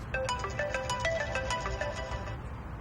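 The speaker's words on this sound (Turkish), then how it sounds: "Ah telefonum çalıyor." A mobile phone ringtone plays a bright, repeating melodic pattern of quick tones for about two and a half seconds, loud and close, before cutting off.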